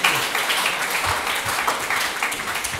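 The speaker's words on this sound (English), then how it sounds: "I really appreciate the applause in this place" Audience applause closing the opening talk of a love school gathering, a dense, steady wash of many hands clapping at moderate loudness throughout, with no distinct speech over it.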